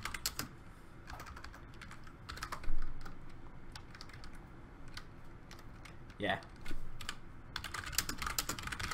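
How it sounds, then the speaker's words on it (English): Typing on a computer keyboard during a Minecraft session, a close, steady run of quick plastic key clicks in irregular bursts, with brief talk over it. "Just typing so he knows."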